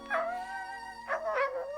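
A dog in an old Soviet fairy-tale film lets out two short whining howls, close and clear, with a pause between them and no talk.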